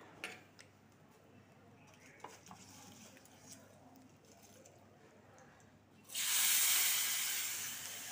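Tempering spices dropped into hot oil for tomato dal burst into a loud, sudden sizzle after several seconds of quiet kitchen clatter and faint handling noises.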